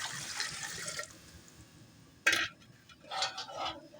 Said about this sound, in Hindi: टिक्का बनाने के लिए हम पतीले में पानी डालेंगे